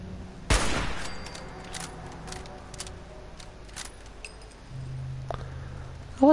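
A single sharp gunshot from a headshot in Fallout 4, a loud close crack near the start followed by lingering game ambience and faint clicks, no voices.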